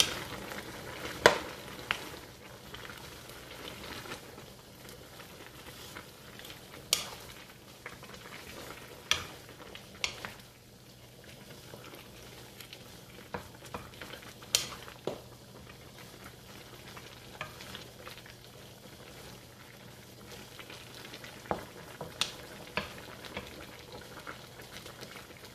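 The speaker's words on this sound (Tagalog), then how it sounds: "Haluin natin." Native chicken with gizzard, potato and quail eggs stirred in a pan, a steady quiet sizzle under scattered sharp scrapes and clacks of the utensil against the pan over about 25 seconds, with no talking.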